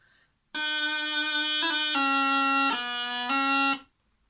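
A bagpipe sounds a steady, bright tune over a constant drone, starting abruptly after a short silence and stopping cleanly a few seconds later.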